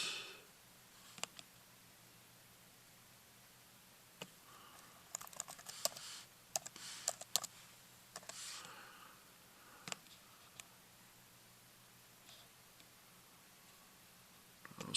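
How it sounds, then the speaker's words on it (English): Someone types on a computer keyboard during an algebra lesson, producing scattered quiet clicks with a denser burst of keystrokes near the middle and long gaps of near silence. "I need to type something in here"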